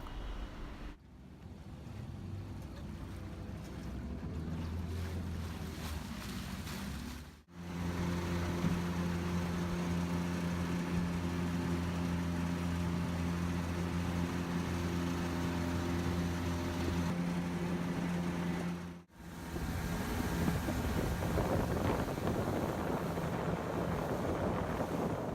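A boat travels upstream on the Ucayali River, its engine droning low and steady under wind buffeting and water rush, with two abrupt short dropouts breaking the continuous noise.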